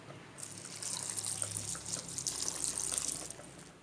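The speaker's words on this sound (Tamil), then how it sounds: "தண்ணி ஊற்றிக்கலாம்." Water is poured into a pot of chopped vegetables (potato, tomato, onion, green chilli) being cooked into a Tamil potato-brinjal pachadi, a soft, steady splashing trickle lasting about three seconds, close and without talk.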